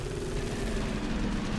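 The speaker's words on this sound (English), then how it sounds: "Missile launcher, sir." A missile launcher fires in the video game Space Hulk: Deathwing, giving a dense, continuous low rumble of launch and blast noise that stays steady and loud, with no voice on top.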